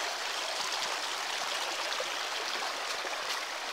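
Water rushes steadily over rocks in a stream, a dense, even hiss of flow that holds constant throughout at moderate distance with no voices.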